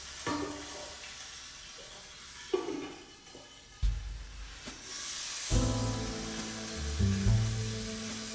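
Chicken breast sears in hot oil in a pan for fettuccine Alfredo, giving a steady close sizzle with bursts of louder spitting and crackling near the end.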